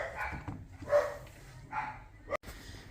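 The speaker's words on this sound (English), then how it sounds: "I've got dogs, so yes, so I apologise for the barking if you can hear any." A dog gives a few separate barks, moderately loud and spaced out, with a brief sharp click near the end.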